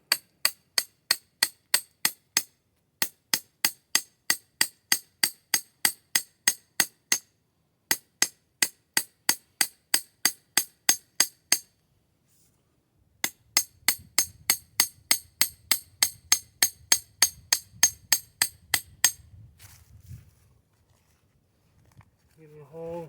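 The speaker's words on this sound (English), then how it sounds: "I'm going to hammer it in back here." Sharp, evenly spaced hammer strikes on a metal rod being driven into the ground ring out in several rapid runs with short pauses between, followed by low rustling and a brief voice at the end.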